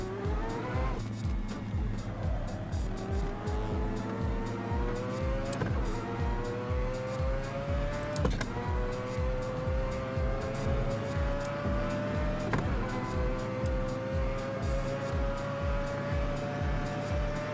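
A race car engine in the sim racing game Assetto Corsa, revving steadily upward through several gear changes with rhythmic pulsing, each shift marked by a brief drop in pitch before climbing again, loud and close throughout.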